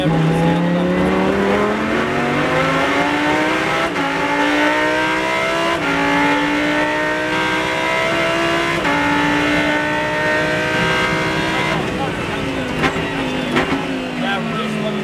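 A Lamborghini Super Trofeo race car on a Las Vegas track roars loudly from the cockpit, its engine climbing through the revs, dropping at gear changes and climbing again for the whole stretch, with tire noise and a voice underneath.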